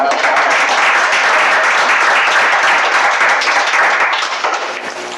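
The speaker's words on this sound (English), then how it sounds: "we just owe our teachers a real round of applause" A roomful of people at a school board meeting gives teachers a sustained round of applause, loud steady clapping that fades slightly at the end.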